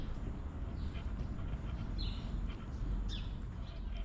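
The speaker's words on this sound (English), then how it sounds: "And all the birds just chirping." Birds chirping outdoors at Picacho Peak State Park, a few faint high chirps scattered over a steady wash of wind or background noise, distant and soft, with no one talking.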